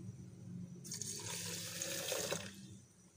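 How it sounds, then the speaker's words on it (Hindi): Water pours into a phalsa juice mixture of phalsa berries, sugar and black salt, a close, steady rushing splash lasting about a second and a half before it stops. "अब इसमें हम पानी डालेंगे"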